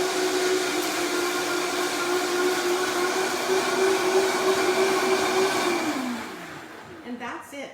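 A blender purees salsa verde with a loud, steady motor whir for about six seconds, then winds down and stops, leaving faint clatter. No one speaks.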